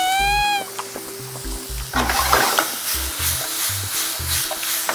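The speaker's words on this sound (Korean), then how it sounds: "그냥 얘도 숨 죽을 정도만 살짝만 볶아주시면 되시고요" Mushrooms stir-fried in beef fat hiss and sizzle in a pan with scraping stirs, under a bouncy background melody.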